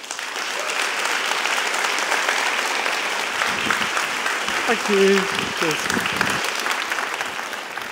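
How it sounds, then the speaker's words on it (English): An audience claps steadily for a journalist and speaker, a dense, even wash of applause lasting several seconds while someone briefly speaks near the middle. "Let's give him a big applause."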